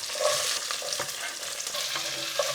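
Onions frying in hot oil alongside mustard seeds and fresh curry leaves for a matar paneer sabzi, giving a steady close sizzle with light spoon-stirring scrapes throughout, no voices.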